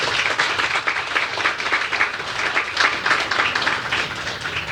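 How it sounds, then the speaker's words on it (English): Applause from an audience at the 53rd International Design Awards ceremony, a moderately loud, even patter of many hands clapping continuously for several seconds, slightly distant in a large hall. "Let's give them a round of applause"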